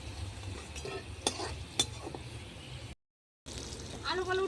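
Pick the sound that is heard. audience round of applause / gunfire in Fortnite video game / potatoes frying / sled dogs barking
potatoes frying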